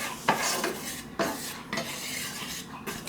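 Butter, cut into pieces, melting as it is stirred in a pan for chipped beef on toast, with a few sharp utensil scrapes and clinks against the metal over a soft, steady background.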